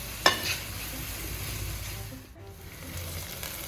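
Green chillies sizzling in oil with onion and ginger-garlic paste for a prawn biryani, a dense, continuous frying hiss with a brief clink near the start.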